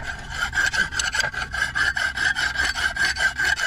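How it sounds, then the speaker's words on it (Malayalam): A hand file rasping back and forth across a metal bolt being made on Bitra Island, Lakshadweep, in a steady run of about a dozen close, even strokes with no talking. "ഒന്ന് അരം വച്ച് ശരിക്കൊന്ന് ഉരയ്ക്കുക"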